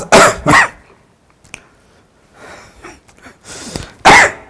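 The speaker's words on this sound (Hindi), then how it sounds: "ऐसी खांसी हो गई है भाई, आती है तो लगातार आती है" Two harsh coughs in quick succession, a quiet pause with faint breathy sounds, then another burst of two loud coughs close by.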